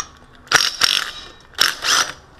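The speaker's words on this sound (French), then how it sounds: "Donc je la retire à l'impact, impact wrench comme on dit." An electric impact wrench works on the clutch pulley of a Peugeot scooter with a 70cc Metrakit engine, hammering in two pairs of short, rattling bursts close by, with quiet gaps between them.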